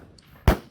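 A single sharp gunshot at a tactical two-gun shooting match, one loud crack followed by a shorter echoing report moments later, with no talking.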